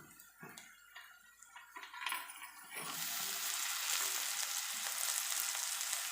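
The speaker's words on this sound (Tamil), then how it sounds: "தக்காளியை சேர்த்து நல்லா வதக்கிக்கலாம்." Tomatoes hit a hot pan of sautéed ginger-garlic for a coconut milk fish curry, a few clatters giving way to a loud, steady sizzle that fills the second half without any voices.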